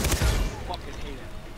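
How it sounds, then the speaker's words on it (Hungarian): Gunfire in the video game Far Cry 3, a loud burst of several rapid shots at the start fading into a quieter tail, with game sounds and a voice underneath. "Lövöm, és nem elég neki 4 lövés."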